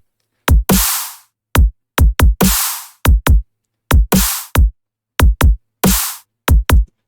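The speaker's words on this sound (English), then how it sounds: "What do the drums sound like? The drums sound like this." Punchy future bass drums made in Ableton repeat in a loud, tight pattern of quick kicks and long, noisy snare hits, with clean silence between the beats.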